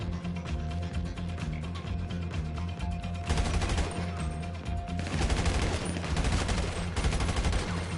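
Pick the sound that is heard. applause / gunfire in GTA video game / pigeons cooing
gunfire in GTA video game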